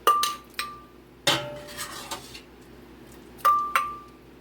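A metal soup ladle clinks sharply against a blender jar and pot while broccoli cheese soup is added, giving several distinct ringing taps spaced a second or two apart, close and clear with no talking.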